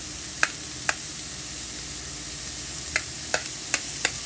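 Carrots sauté with chayote in a pan, a steady soft sizzle under sparse, crisp clicks of a spoon or spatula stirring against the pan.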